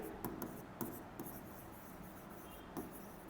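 Marker or chalk writing on a classroom board during a Class 10 maths lecture, a few short taps and scratchy strokes spaced over a few seconds, faint and fairly close, with no talk.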